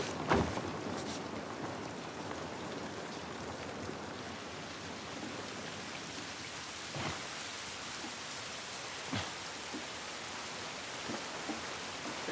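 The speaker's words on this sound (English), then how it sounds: "It's raining." Steady rain pours down outdoors in The Last of Us Part 1, a dense continuous hiss with a few louder spatters and drips breaking through, heard alone without any voices.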